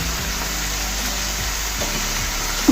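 Onions frying steadily in a pan for a bitter gourd stir-fry, a continuous close sizzle with faint scraping touches and one small clink at the end, no voices.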